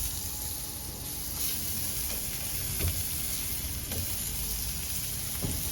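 Steady, dense sizzling and crackling of peppers roasting over high heat, continuous and close with no pauses.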